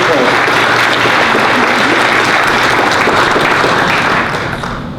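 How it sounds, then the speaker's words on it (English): A crowd at an exhibit opening gives a round of applause, a dense, loud wash of clapping that holds steady for about five seconds before starting to thin out. "give Ole a round of applause"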